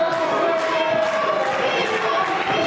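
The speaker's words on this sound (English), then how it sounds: "Crowd trying to will Gary J up." A wrestling crowd at the Grandel in 2024 roars steadily and cheers, loud and continuous, while a commentator talks over the noise.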